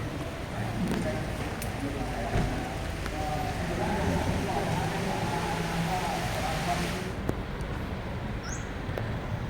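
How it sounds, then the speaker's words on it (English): Rain falling steadily in an abandoned train yard at Makkasan, Bangkok, a continuous hiss of drops holding at a fairly even level throughout, with a few sharper taps. "And here comes the rain."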